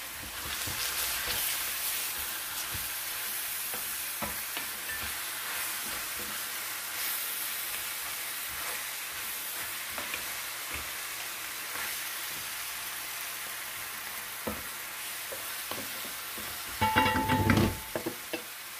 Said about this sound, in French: Et je vais les faire revenir environ 5 minutes